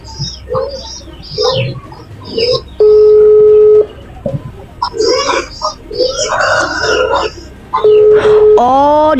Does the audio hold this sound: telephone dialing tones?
yes